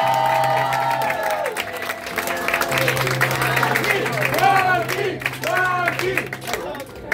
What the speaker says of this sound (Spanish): Así que denle un fuerte aplauso a Juanpi.